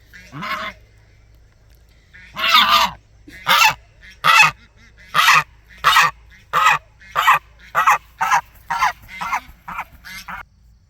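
Geese honk loudly and repeatedly at close range, a single call followed by a long run of rhythmic, evenly spaced honks.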